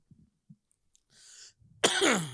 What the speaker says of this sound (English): Now I'm gonna start coughing